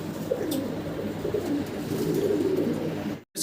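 Fancy pigeons coo steadily in a low, bubbling chorus, several birds close together, with a few brighter chirps and a brief cut near the end.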